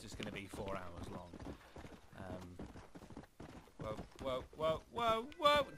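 Hoofbeats of a horse in the Red Dead Redemption game clip-clop in a steady rhythm beneath someone talking.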